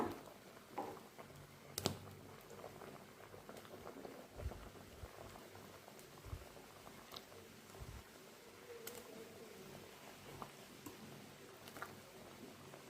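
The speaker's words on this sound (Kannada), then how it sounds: "ಇವಾಗ ತುಂಬ ಚೆನ್ನಾಗಿ ಸಾಂಬಾರು ಕುದೀತಾ ಇದೆ" Mackerel fish sambar bubbling in a pot, soft irregular popping and gentle simmering patter, quiet and continuous with occasional sharper pops.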